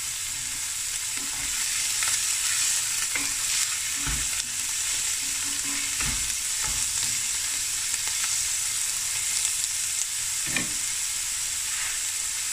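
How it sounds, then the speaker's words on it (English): Onions sizzle steadily in a pot, a constant bright hiss with occasional soft spoon knocks and stirs, cooking toward golden brown for a potato and lamb bredie, with no voices. "I'm just going to sweet down the onions until it's a nice golden brown"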